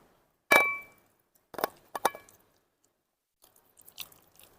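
Someone eating kacchi biryani with soft potato and mutton, a few distinct crunchy bites and chews in quiet surroundings, one louder bite first and fainter chewing after.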